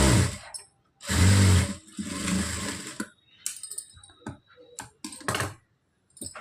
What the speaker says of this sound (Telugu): మనం బ్లౌజ్కి ఇప్పుడు త్రీ స్టిచ్చెస్ వేయాలి లైన్గా త్రీ స్టిచ్చెస్ వేసేసుకోవాలి